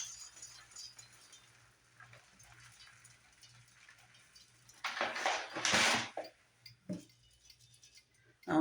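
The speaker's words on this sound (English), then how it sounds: "I'm gonna go in and add my wax melt, the wax to it." Wax pieces poured into a metal candle-making pot, a clattering, rattling tumble in the middle of the clip with clinks against the pot, then a few lighter knocks in a quiet kitchen with a low hum.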